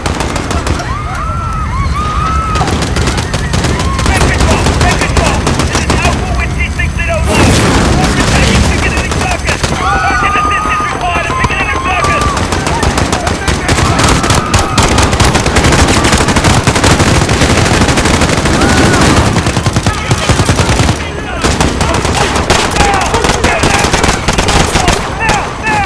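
Dense, loud gunfire and explosions in Call of Duty Modern Warfare's Piccadilly Circus attack, with rapid automatic bursts and booming blasts running continuously, voices shouting underneath.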